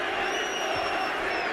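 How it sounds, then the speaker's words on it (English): Boxing arena crowd at the Evander Holyfield vs Nikolai Valuev fight, a steady wash of murmuring and calling voices with a faint whistle-like tone running over it, sustained and fairly distant. "Crowd calling for more action."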